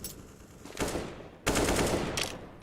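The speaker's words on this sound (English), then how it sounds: "Posturing and gunfire over towards Long A." Automatic gunfire in Counter-Strike: Global Offensive on Dust 2, from the direction of Long A during a pro match. A short burst is followed by a longer, louder rattling volley at moderate distance, with no talk.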